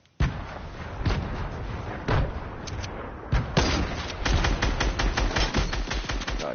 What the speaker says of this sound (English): I got a decent shot off.